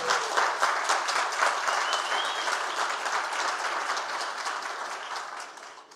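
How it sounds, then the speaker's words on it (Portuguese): A crowd at a political rally in Irati, Brazil, applauds for a pre-candidate for federal deputy named Célio, a steady, dense wash of clapping that holds throughout and tapers slightly at the end. "Salve de palmas pro Célio"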